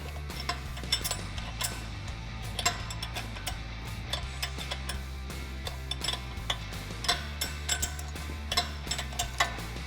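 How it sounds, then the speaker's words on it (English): Tightening a nut on a Teraflex front swaybar quick disconnect kit on a Jeep Wrangler JK, with a screwdriver holding the link: a steady run of close metallic ratcheting clicks and taps over a low background hum. "then tighten down the nut on the other side"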